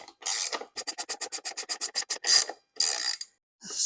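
A 1/2 inch socket on a ratchet working a gunk-covered hood latch from a 1977-82 Corvette C3, giving a rapid series of about a dozen sharp clicking ratchet strokes between scraping rubs, close and alone.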